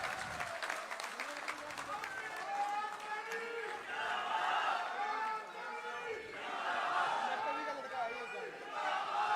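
A BJP rally crowd greets new party members with applause mixed with shouting and chanting voices, a continuous roaring swell that rises and falls in waves over a few seconds.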